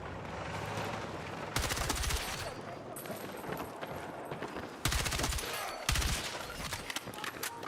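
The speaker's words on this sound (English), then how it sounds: "I'm getting hit by a lot of shotguns here in this game" Heavy gunfire in a Battlefield 6 Season 3 match, with dense crackling volleys and several sharp, loud blasts standing out against constant battle noise.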